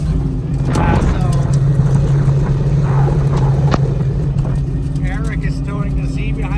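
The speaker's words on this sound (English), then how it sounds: "We're driving the race car, baby." A Corvette C6 drift car drives on a public street, a loud, constant low engine drone and cabin rumble heard from inside, with voices talking over it.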